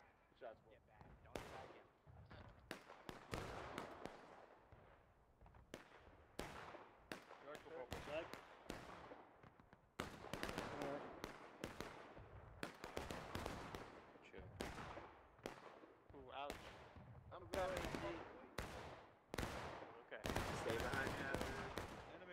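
Musket volleys crack out in bursts across a Civil War battlefield in War of Rights, many rifles firing together in ragged rapid clusters, near and loud, with shouted voices mixed between the shots.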